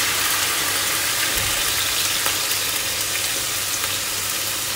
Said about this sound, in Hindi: इसी 1 टेबलस्पून घी जो मैंने डाला है इसके अंदर, इसी के अंदर मैं इन चावलों को हल्का सा फ्राई करूँगी